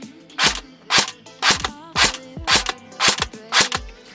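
A Cyma CM.513 M4 airsoft gun fires seven sharp, snappy shots on semi-auto at an even pace of about two per second, close and loud, with no talking.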